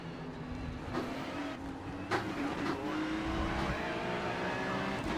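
A race car engine in a sim racing video game drones steadily at high revs while overtaking, with a few brief gear-shift blips and faint tire noise, close and continuous, with no talk.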